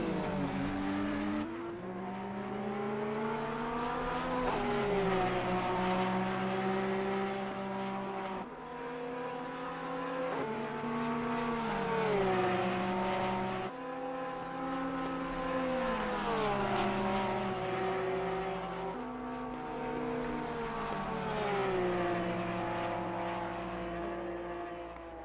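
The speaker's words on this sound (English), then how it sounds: "Taking up P13 from Dimitri Athwal in that 333 Porsche." Porsche 333 race car engine running steadily in a six-hour endurance race at Mount Panorama, a loud, continuous multi-toned drone rising and falling in pitch through gear changes and corners for the whole stretch.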